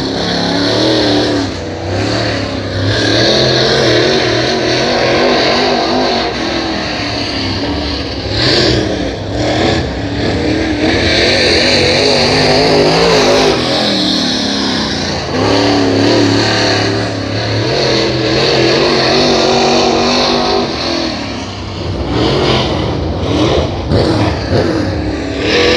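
Race cars at Hattiesburg Speedway roar through a heat race, with loud engines revving and sweeping past in repeated waves of acceleration and deceleration. The sound is close and continuous, with no talk over it.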